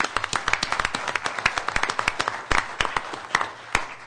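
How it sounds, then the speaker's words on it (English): Scattered applause from a small audience at a town council meeting in Taos, individual claps sharp and distinct, fairly close, in an uneven rhythm throughout. "Let's give him a big round of applause"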